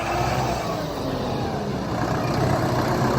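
A Solis 105 turbocharged tractor drives away, its diesel engine a steady, close, low rumble with constant loudness throughout and no talk over it.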